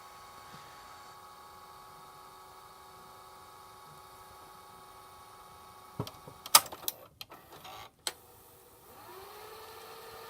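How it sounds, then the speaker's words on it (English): A Sears VCR with a faulty idler strains to rewind a tape: a faint steady motor whine, then a burst of clicking, clunking mechanism noises and brief grinding, before settling back into a low hum. "So right now it is almost not turning on rewind."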